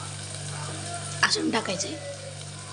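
Asafoetida hits hot oil in a pan for masala rice, giving a soft steady sizzle with a brief stirring burst, while a person speaks briefly over it.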